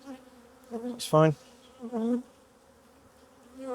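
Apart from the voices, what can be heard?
honey bees buzzing around hive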